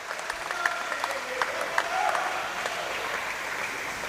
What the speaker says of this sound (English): So the crowd applaud the players for walking on.